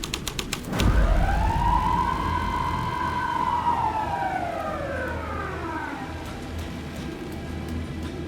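A police car siren in the Alan Wake 2 game starts after a few sharp clicks and wails in one long, loud rising-and-falling sweep over a low engine rumble, then fades down toward the end.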